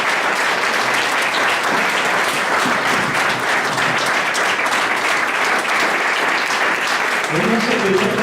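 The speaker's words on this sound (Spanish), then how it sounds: "Dale una ofrenda de palmas." A church congregation breaks into sustained, dense applause that fills the room steadily for several seconds, loud and continuous, with voices mixed in beneath the clapping.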